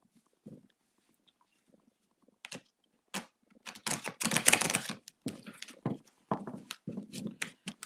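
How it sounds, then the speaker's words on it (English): Tarot cards being shuffled by hand, a run of crisp papery riffles and taps that starts sparse and builds into a dense, louder burst before trailing off into scattered flicks, close and alone. "let me do another little shuffle then"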